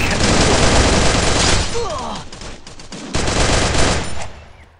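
Rapid automatic gunfire in the video game Free Fire, dense loud bursts that fill nearly the whole stretch with a brief dip in the middle, under a player talking.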